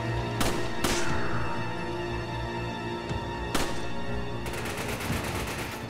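Enemy soldiers in Resident Evil 5 fire guns in sharp, loud bursts: several single cracks, then a rapid automatic volley near the end, over a constant game background hum.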